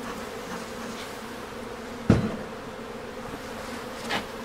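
Honeybees buzzing from an opened hive during a walk-away split, a steady low drone throughout, with one sharp knock midway and a softer bump near the end.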